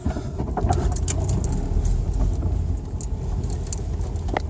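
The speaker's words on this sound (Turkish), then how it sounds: "Tekrar aracı birinci vites konumuna alaraktan aracımızı çalıştırıyoruz." Car engine started in first gear, with a broken clutch cable, runs with a low steady rumble up close, while light jangling and rattling sounds sit on top.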